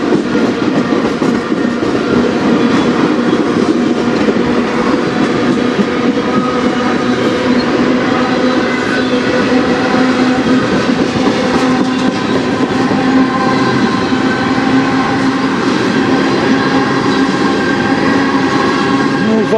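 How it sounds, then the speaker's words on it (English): A CN freight train of box cars and hoppers rolls past close by in Sarnia, Ontario, a loud continuous rumble with rhythmic wheel clatter and squealing metal tones holding steady throughout. "There's all the box cars."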